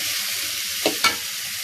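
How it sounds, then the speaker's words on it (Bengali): Vegetables sauté in a hot pan with a continuous close sizzle, broken by two quick spatula strokes that scrape and toss them. "কিছুক্ষণ পর পর ভেজিটেবলগুলো একটু নেড়ে দিন।"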